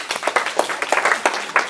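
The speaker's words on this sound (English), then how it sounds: "Big round of applause." Small audience at a lecture session gives a round of applause, a brief patter of individual claps from a few people, distinct and fairly close, with no talk.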